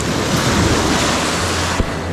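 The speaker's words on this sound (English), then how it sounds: "The big and cold waves." Big, cold ocean waves break and wash loudly in a steady roar at Stumps Pass after Hurricane Ian, with a short thump near the end and wind buffeting the microphone.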